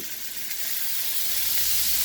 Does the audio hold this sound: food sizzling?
yes